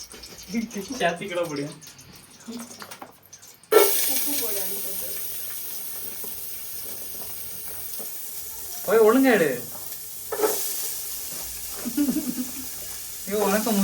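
Crab dry gravy ingredients sautéing in a pan with salt and green chillies, a steady hissing sizzle that jumps louder partway through, with a person speaking over it in bursts.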